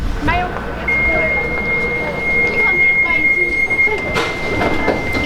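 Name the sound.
tram at Nottingham, door warning beeper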